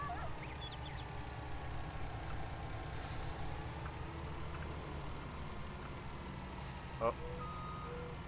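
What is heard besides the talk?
lorry braking and reversing in a farming simulator video game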